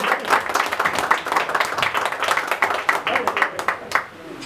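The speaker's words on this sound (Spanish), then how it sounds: "Aplauso para ella" Applause breaks out for a birthday woman at a mariachi celebration, a dense run of clapping lasting several seconds with voices mixed in, fading near the end.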